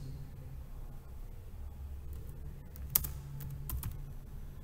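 Typing on a computer keyboard, with soft irregular key taps over a low room hum and a few sharper, louder clicks near the middle.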